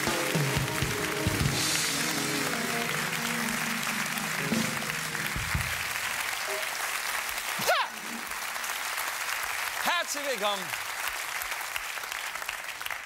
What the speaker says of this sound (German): Vielen Dank für diesen warmherzigen und menschlich bewegenden Applaus.